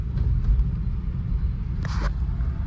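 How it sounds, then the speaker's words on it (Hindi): A vehicle pulling out at a traffic signal on a Bhopal street, giving a close, steady low engine rumble throughout, with a short hissing burst near the end. "भाई सिग्नल हो गया है और अभी गाड़ी निकालनी सबसे ज़्यादा ज़रूरी है भाई, वही निकाल रहा हूँ मैं।"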